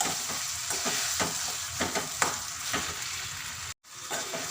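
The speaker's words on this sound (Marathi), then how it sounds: "तेल गरम झालेले आहे आणि हे भरीत टाकून द्यायचं त्यामध्ये हिरवी मिरची आपण भाजून काही घेतलेली नाही त्यामुळे तेलामध्ये छान परतून घ्यायची" Mashed roasted eggplant bharit and green chilies sizzle in hot oil. A spatula scrapes and stirs the pan in rhythmic strokes over a dense, continuous hiss, and the hiss briefly cuts out near the end.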